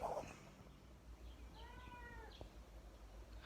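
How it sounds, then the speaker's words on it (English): A cat gives a single short meow, faint and fairly close, against a quiet indoor background with a brief knock and a small noise at the start. "Hi, little cat."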